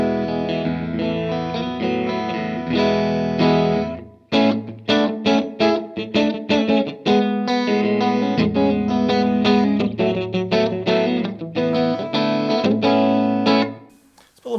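Clean electric guitar played through a Strymon Iridium pedal set to a Vox amp sound, strummed chords ringing with light reverb, a pause, then choppy rhythmic strums, loud and close with no talking.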